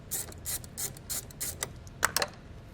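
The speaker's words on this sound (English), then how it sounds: "So we'll loosen up this nut here with a 10." Ratchet wrench loosening the negative terminal nut on a 2019 Ford Explorer battery, a rhythmic series of close clicking strokes that ends in a few quicker clicks.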